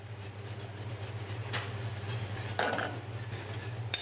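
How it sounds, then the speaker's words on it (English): A whisk scrapes and clinks against a pan while butter is worked into a butter sauce in a kitchen, producing quick metallic rattles and taps over a low steady hum. "the important part of making a butter sauce is to continue whisking the butter throughout"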